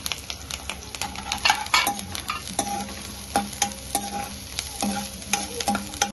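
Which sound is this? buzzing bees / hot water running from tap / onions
onions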